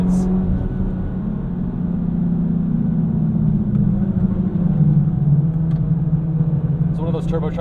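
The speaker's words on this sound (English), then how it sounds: "It's one of those turbocharged engines that really rewards you as you rev it out." The turbocharged engine of a 2008 Mitsubishi Lancer Evolution X GSR drones steadily on a canyon road, a rumbling, whirring note that shifts pitch slightly as it pulls.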